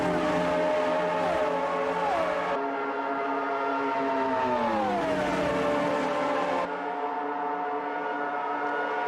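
Racing engines from 1991 Formula 1 cars roar in the Automobilista 2 video game, a dense, sustained high-pitched whine with pitch sweeping down and back up as the cars brake and accelerate through corners.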